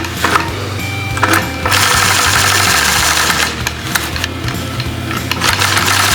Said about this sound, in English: I guide my machine and stop and start it with my right hand